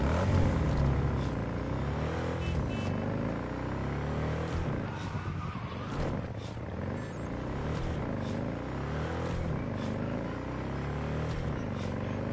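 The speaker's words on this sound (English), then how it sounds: "Alright, just gonna get back on my motorcycle." Motorcycle engine in Cyberpunk 2077 revving and running steadily at moderate loudness, its pitch rising and falling through repeated throttle swells, with a busy game soundtrack layered underneath.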